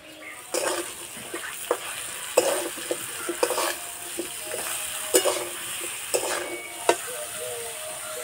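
Spices and vegetables for a vegetarian labra with spinach fry gently in a pan, a soft continuous sizzle broken by repeated scraping and clinking stirs, with no talk.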